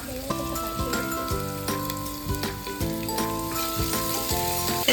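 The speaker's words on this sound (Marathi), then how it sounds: "आता मी टाकणार कढीपत्ता" Curry leaves crackle and sizzle as they hit hot oil with onion, a continuous close hiss running under background music with sustained melodic notes.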